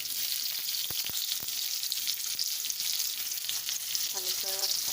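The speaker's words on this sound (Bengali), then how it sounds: "প্রথমে রসুনটা ভাজি করে নিয়েছি, সামান্য তেল দিয়ে তারপর পেঁয়াজটা দিয়ে দেবো।" Garlic and onion frying in a little oil in a pan, a steady close sizzle broken by a few sharp crackles and soft clinks of a spatula, with no talking.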